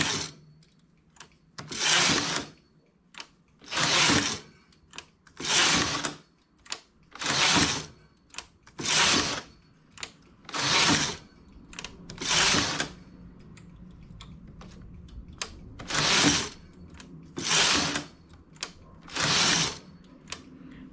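A knitting machine carriage slides back and forth across the needle bed while knitting colored geometric designs, giving about a dozen loud rhythmic rasping sweeps at regular intervals with quiet gaps between, close and alone.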